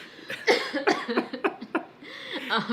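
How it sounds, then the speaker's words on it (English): A person coughs repeatedly in quick, rough bursts, mixed with breathy laughter, close and fairly loud. "I'm like laughing so hard I'm coughing"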